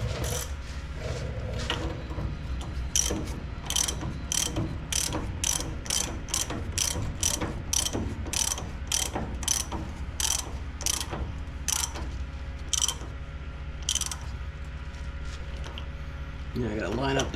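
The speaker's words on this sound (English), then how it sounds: "then I'll try to torque this, the big bolt on the bottom of the gearbox down, or steering box down to 150 pounds" A ratchet wrench clicks in fast bursts while tightening the large bottom bolt on a truck's steering gearbox, close and crisp. Each burst is a string of sharp pawl ticks separated by brief pauses, with low voice murmurs and background rumble.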